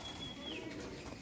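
Pigeons of several breeds, among them Pakistani Teddy, Kamagar, Giribaz and Golai Lal, coo quietly in a trading loft, the brief low coos sounding close and steady with no voices.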